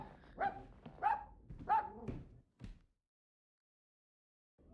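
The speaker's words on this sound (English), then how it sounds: "Oh no, there's a very distressed puppy." A distressed puppy in a video game barks and whimpers in a few sharp, uneven yelps over about three seconds, then falls silent before a faint sound returns at the end.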